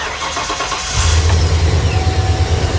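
A Ford Econoline van's engine cranks and catches, then settles into a loud, steady idle close by, after a brief quieter lead-in of about a second.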